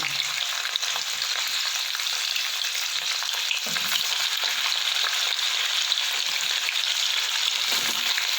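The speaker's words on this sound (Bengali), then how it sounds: "তেলটা আমার গরম হয়ে গেছে। পনিরটা আমি ভেজে তুলে নেব।" Pieces of paneer fry in hot oil with a bright, steady hiss and crackle, close and continuous, broken only by a few soft stirring knocks; no one speaks.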